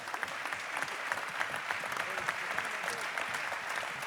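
A crowd gives sustained applause for four French champions, heard as a continuous, moderately distant patter of clapping with a few scattered sharper claps.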